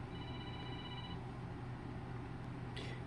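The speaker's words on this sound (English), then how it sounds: "sorry about all that phone ringing" A phone rings with a steady electronic tone for about a second, faint against a constant low background hum, followed by a short bright burst near the end.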